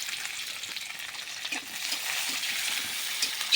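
Sliced onions sizzling in hot oil along with a bay leaf as spices are tempered, a steady, fairly quiet crackling fry with faint stirring and no voices.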